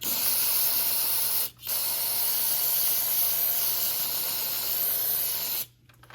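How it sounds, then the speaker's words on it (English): Brake cleaner sprayed onto a vehicle's front brakes: a loud, steady aerosol hiss held for about a second and a half, a brief break, then a longer continuous blast of several seconds that cuts off sharply. "Clean that good with plenty of brake clean"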